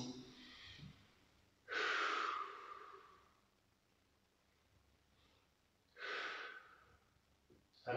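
A person exhales audibly during an abdominal and core workout, two long breathy outbreaths separated by quiet, close to the microphone with no talk over them.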